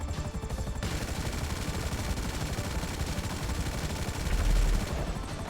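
Savage attack helicopter's main gun firing in GTA 5 Online, a sustained rapid burst of gunfire over a dense rotor-like roar, continuous and loud with no talk, ending in a brief quieter tail.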